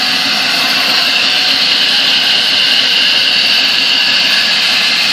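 A restored 1948 AMT table saw runs steadily with no load, a loud, even motor and blade whir with a constant hum that holds unchanged throughout, with no talking.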